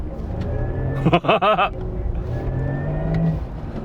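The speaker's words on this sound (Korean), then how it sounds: "스포츠 플러스를 바꾸면 이제 포르쉐 일렉트릭 스포츠 사운드도 활성화가 되겠죠" A synthetic Porsche Taycan 4S electric sport drive tone in Sport Plus mode hums steadily inside the cabin, with a brief rising warble partway through over low road rumble.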